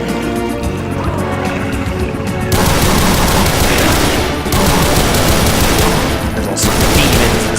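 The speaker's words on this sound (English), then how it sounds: "Let's switch back to the assault rifle. I mean, this weapon is extremely accurate." Rapid automatic assault rifle fire in the Brutal Doom first-person shooter game, dense continuous bursts with brief changes in tone, loud and close with no talk.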